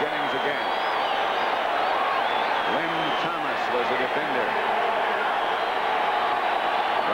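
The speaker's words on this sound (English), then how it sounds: "Listen to that crowd now" A large outdoor football stadium crowd at a 1981 NFC playoff game between the Giants and 49ers roars steadily, yelling for the defense, a dense continuous wall of noise with a commentator's voice over it.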